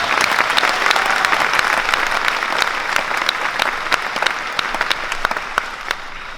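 A church congregation at a Catholic charismatic renewal gathering claps loudly, dense applause with sharp individual claps popping out, sustained for several seconds and easing slightly toward the end.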